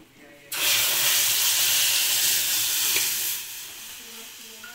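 A loud, sudden sizzle erupts as spices hit hot oil for tempering dal, hissing steadily for a few seconds before easing off.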